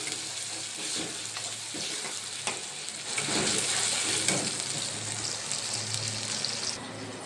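Tomatoes frying in a spice masala for a mung bean usal, a soft, steady sizzle and bubbling close by with light stirring scrapes, fairly quiet throughout.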